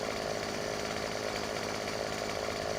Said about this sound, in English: Found them to be the best chainsaw that I ever used.